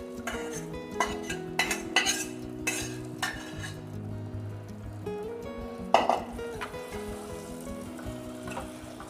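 A spatula stirs a papaya and grated coconut stir-fry in a pan, sharp scraping clinks against the metal over a low sizzle, with several bursts of stirring near the start and another around the middle.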